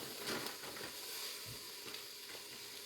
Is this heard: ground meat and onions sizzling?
yes